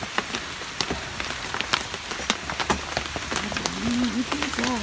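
Rain falling outdoors in mountain terrain, a steady patter with scattered sharp drops striking nearby surfaces, while a voice murmurs briefly toward the end.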